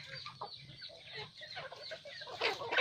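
Hens and chickens cluck and chatter at feeding time on a farm, a busy overlapping flock close by, growing louder toward the end.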